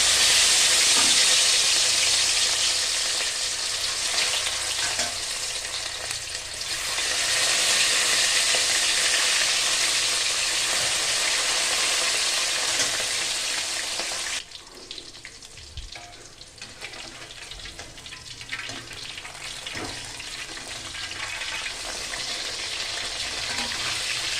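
Loud, steady sizzling of katla fish frying in hot oil in a kadai, dropping to a quieter crackle partway through with occasional clinks and scraping.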